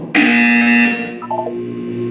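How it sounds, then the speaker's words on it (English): A loud electronic buzzer from the video game Portal 2 sounds once, a steady harsh tone lasting under a second, followed by a softer tonal game chime and a lingering background hum. "When you hear the buzzer, look down at the floor."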